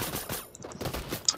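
Rapid gunfire bursts crackle in a Fortnite match, coming in short choppy volleys with a brief lull midway and a sharp metallic ping near the end.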